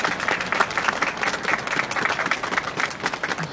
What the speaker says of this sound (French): je pense que vous pouvez les applaudir, les enfants